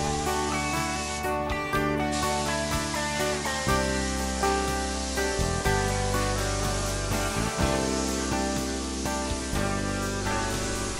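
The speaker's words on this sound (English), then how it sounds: "Now I'm just going to finish up by spraying all the center panels and the bottom rail, again with a nice, even, full wet coat." A spray gun lays a full wet coat of finish on an oak cabinet's center panels and bottom rail, a steady close hiss running continuously with brief shifts in tone as the trigger pulses.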